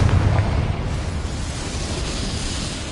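In Hogwarts Legacy, a Confringo fire spell detonates as a deep, rumbling blast that tails off into a crackling roar over a few seconds.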